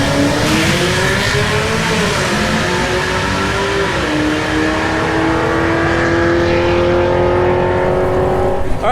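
A twin-turbo Chevrolet C8 Corvette at an LS Fest drag strip on full boost, its engine note climbing steadily in a loud, sustained roar through the gears, close and continuous with no talk.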